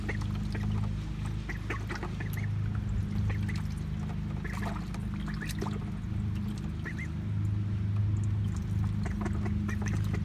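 Ducks quack and chatter repeatedly in a muddy tub over a steady low hum, with scattered splashy bursts throughout; the calls are moderately close and fairly continuous.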